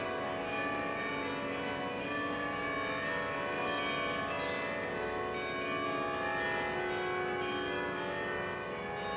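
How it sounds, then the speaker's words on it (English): Church bells ring across York near Bootham Bar and the old city wall, a dense, continuous peal of overlapping tones heard from a moderate distance, steady and unbroken, with no talk. "Now I'll take a peek at the source of those bells."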